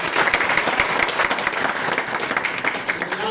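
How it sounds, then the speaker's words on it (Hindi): Dense audience applause fills a hall at a network marketing seminar, steady and loud throughout with no pauses. "दमदार ताली बजाइए दोस्तों।"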